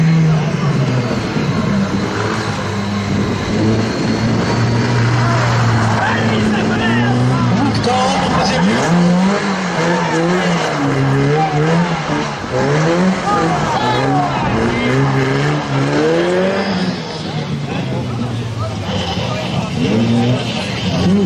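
During a car driving-skill test in Chamusca, an engine revs and whines in rising and falling bursts as the car maneuvers, loud and close, with a voice talking over it throughout.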